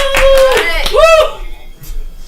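A comedy show crowd claps for the next comedian, a brief burst of hand claps mixed with a loud cheering voice that fades within about a second and a half.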